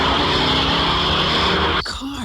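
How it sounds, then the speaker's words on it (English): Race cars roar past at a racetrack, a loud dense engine drone with tire noise that cuts off abruptly near the end. "Cars."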